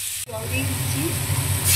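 Water poured into a pan of frying amra (hog plum) chutney with spices sets off a loud, steady sizzle that holds for under two seconds after a brief gap at the start.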